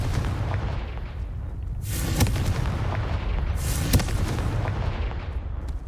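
Confringo fire spell blasts in the video game Hogwarts Legacy: two loud whooshing booms, a couple of seconds apart, rise over a steady rumbling game ambience, with no talk.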